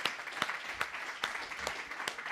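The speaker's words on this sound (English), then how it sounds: "Big round of applause," Audience applause welcomes a speaker onto the stage at a health and wellbeing summit in an arena in Valencia, a faint, steady wash of clapping heard from a distance, with a few louder claps standing out now and then.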